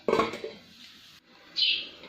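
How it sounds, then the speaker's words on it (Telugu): A metal lid lands on a cooking pot of simmering egg curry with one sharp clank, followed by a soft rattle, a brief lull, and a faint hiss or scrape. "ఇలా మూత పెట్టి"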